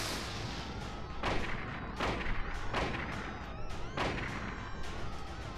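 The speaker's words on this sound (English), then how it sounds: "So I didn't know that Satan was weak to bullets" Heavy gunshots in the Silent Hill video game boom out about five times at uneven intervals, each a loud, sharp blast over a constant dense rumble and hiss.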